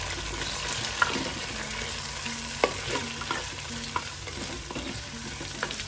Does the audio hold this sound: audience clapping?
no